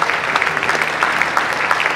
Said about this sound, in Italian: glielo facciamo un grande applauso, tutti i membri del mentor club